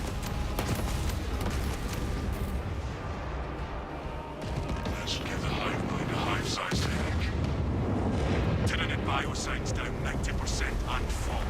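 A Melta gun fires in Space Marine 2 as dense bursts of blasts and booms over constant combat noise, loudest in the second half, with a voice talking at times.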